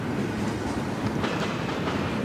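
A freight train rolls along the railroad near Valdosta, Georgia on a cold morning, a loud, continuous rumble of wheels and cars passing close by, with faint rhythmic clacking over the roar.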